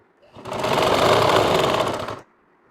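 A sewing machine runs in one continuous burst of rapid stitching on a shirt collar, starting and stopping abruptly, loud and close, with quiet room tone before and after.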